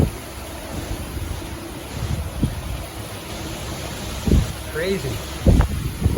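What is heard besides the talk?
strong wind of Tropical Storm Isaias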